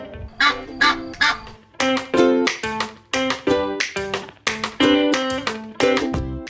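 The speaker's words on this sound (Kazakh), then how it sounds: "Қаз қаңқылдайды." Domestic goose honking loudly and close, a series of about ten harsh nasal calls in quick uneven bursts with short gaps, no other sounds.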